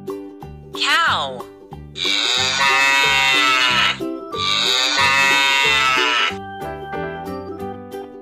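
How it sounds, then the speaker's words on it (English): A cow lets out two long, drawn-out moos, one after the other, over a light, plinking children's melody that plays throughout. "Cow."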